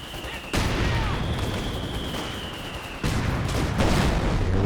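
A mortar pit gets destroyed during a 3v3 Company of Heroes 2 battle on La Gleize, with heavy booming blasts and crackling gunfire rolling through a dense, continuous wartime din, and a fresh loud burst hitting partway through.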